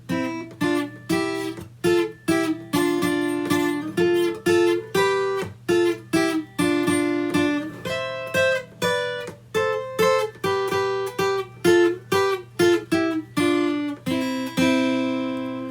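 An electric guitar improvises in harmonized thirds, quick plucked pairs moving around the neck in a loose, steady rhythm, ending on a sustained chord.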